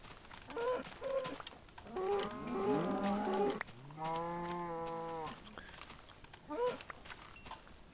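Cattle lowing in a blocky sandbox game, several drawn-out moos overlapping in succession, fairly close and loud, with a brief fainter call near the end.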